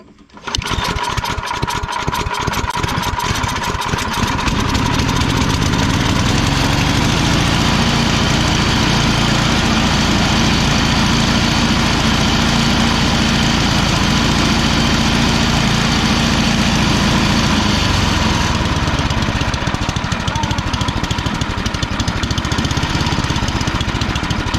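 A Yard Machine snow blower engine catches after a recoil pull, sputtering briefly before settling into a loud, steady running drone that carries on close by for over twenty seconds.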